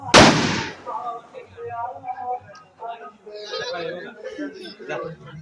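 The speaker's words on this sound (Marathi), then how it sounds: "आरू ऐकायला येते, बॉम्ब लावतायत तिथे." A loud firecracker blast goes off at a temple anniversary festival in the Konkan region, a sharp boom at the start that rings out and fades while several voices talk and shout over the noisy crowd.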